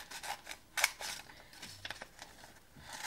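Scissors cutting paper for a paper throwing knife craft, a few close crisp snips and rustles in short irregular bursts, quiet and without talk.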